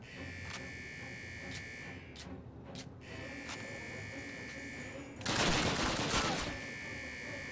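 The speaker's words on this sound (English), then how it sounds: "There was a gunshot that came from beside me." Sharp gunshots crack at intervals, then a dense burst of rapid automatic fire, over a constant high electronic hum, in the game Call of Duty (2003).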